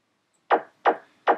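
Three evenly spaced punchy shots from a video game weapon fire in quick succession, each a short thump with a quick decay over silence.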